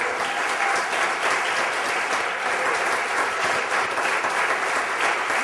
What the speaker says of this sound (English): let's give them a big round of applause for all of their work